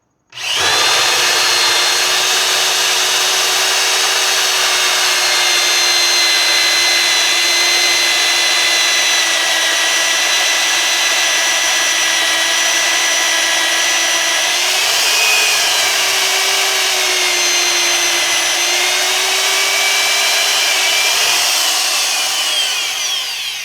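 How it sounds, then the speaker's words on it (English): A drill fitted with a hole saw bit boring into a log, whining loudly and continuously for over twenty seconds, with a brief pitch dip and wobble partway through as it cuts deeper, then cutting off at the end. "So go ahead and drill your hole."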